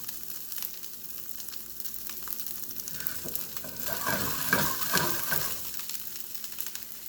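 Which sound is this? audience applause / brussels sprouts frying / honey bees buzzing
brussels sprouts frying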